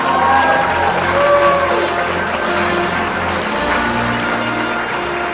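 A crowd at an outdoor Independence Day fireworks event claps and cheers steadily for military servicemen and women, with faint tones and murmuring mixed in.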